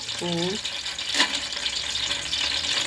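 Raisins and cardamom sizzle and fry in hot ghee in a pan for ghee rice, a steady close crackle with a brief stir around the middle and a short burst of voice near the start.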